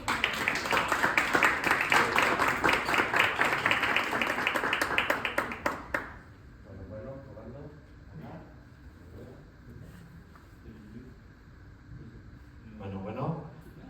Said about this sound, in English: So welcome Eduardo, and please an applause to him.